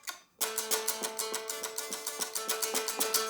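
An electric guitar picks just two notes again and again while the other strings stay muted, giving a clean, even, rhythmic pattern of repeated plucks after a brief silent start.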